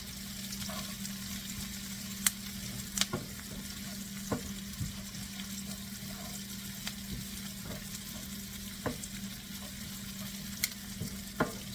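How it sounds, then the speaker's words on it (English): Fresh rosemary fries in oil in a pan, giving a continuous soft sizzle with occasional sharp ticks and clinks from stirring, fairly quiet and without talk. "Stir it around because you don't want the rosemary to burn."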